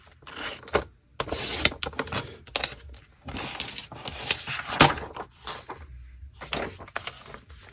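A handheld paper trimmer slices through a composition book cover in several sharp, close, crunchy strokes with short pauses between, alone without talking.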